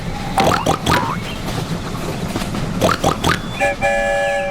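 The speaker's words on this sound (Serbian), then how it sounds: "pogledamo voz koji prolazi sa svim životinjama" A cartoon train carrying animals rolls past in a bright, rattling run of clattering bursts, finishing with a steady tooting horn, loud and close with playful effects.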